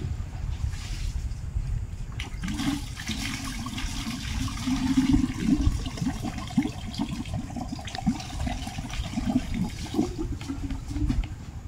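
A leaking pipe lets water rush out in a sustained turbulent stream, swelling a little midway and then continuing at a steady moderate level, alone without voices.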